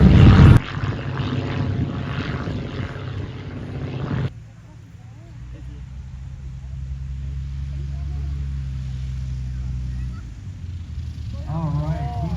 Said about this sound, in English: flying in the OY-1 Sentinel